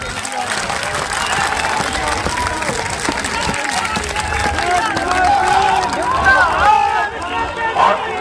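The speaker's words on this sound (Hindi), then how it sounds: "सब लोग एक साथ ताली बजाइए" A large crowd at an election rally in Lakhimpur claps together in a sustained, fairly loud wash, with crowd murmur and voices running through it.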